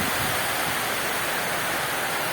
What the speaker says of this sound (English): Heavy rains.